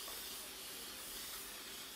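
Spray glue hisses steadily from an aerosol can onto a stretched canvas while a diamond painting is mounted, a continuous close, broad hiss with no pauses or talk.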